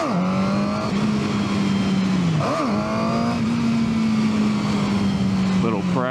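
A Suzuki GSX-R 750 sport motorcycle idles and revs at close range, its engine pitch holding steady and then dipping and rising in short blips as the clutch is worked, with steady road noise behind it.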